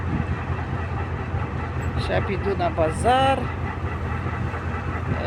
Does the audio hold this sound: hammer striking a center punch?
no